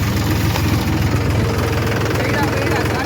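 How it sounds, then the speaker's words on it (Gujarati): A farm tractor engine runs steadily at close range, a loud low-pitched throbbing drone with a rhythmic knock that continues unbroken throughout. "ક્રિશભાઈ હલાવે ટ્રેક્ટર ને આપણે દઈ ગયા"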